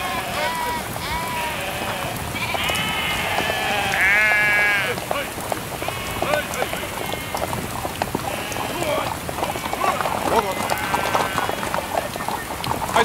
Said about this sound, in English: I say, sir, your sheep